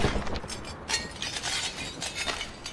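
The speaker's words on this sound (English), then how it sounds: "The glass sound is nice, isn't it?" Glass shatters in a horror video game, a dense burst of breaking and tinkling shards that keeps crackling and clinking throughout, fairly close and loud with no speech.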